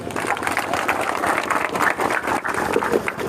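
An audience at a rally in Dera Mansu applauds MP Kishori Lal Sharma, a dense, uneven burst of clapping that swells and dips over a few seconds.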